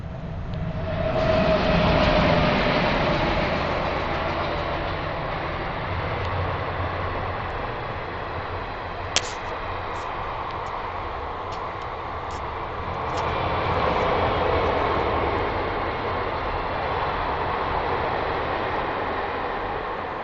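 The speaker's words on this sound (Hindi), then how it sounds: "एक मिनट रुकेंगे, ट्रेन आ रही है।" A train passes nearby with a steady, loud rumble and rolling wheel noise that swells and eases over twenty seconds, with a few brief metallic clicks midway and no talking.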